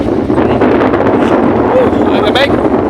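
Cold wind in Taichung, Taiwan, roars steadily across the microphone, a loud rushing buffeting with faint voices underneath.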